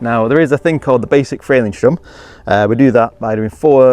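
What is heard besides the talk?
No everyday noise stands out behind the speech.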